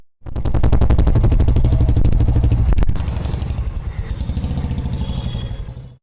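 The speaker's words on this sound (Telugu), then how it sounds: "భారీ శబ్దంతో మితిమీరిన వేగంతో రయ్యున దూసుకువెళ్లే బైకులతో నగరవాసులు జంకుతున్నారు" A motorcycle fitted with a modified loud silencer roars close by in Hyderabad, its engine blaring hard and rapid, then its note drops into a fast popping rattle as it speeds away.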